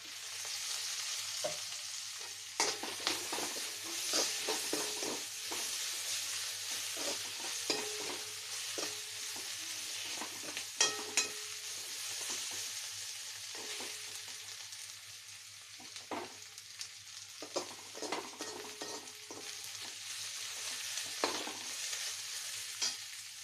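Onion with garlic-ginger paste frying in a pot for biryani, a steady sizzle broken by repeated scraping and clinking stir strokes, close and fairly loud with no voices.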